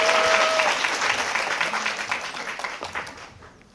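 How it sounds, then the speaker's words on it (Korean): Audience applause at a book concert, a sustained, full burst of clapping from a crowd that stays loud and even before thinning and fading out near the end. "박수 한번 주세요."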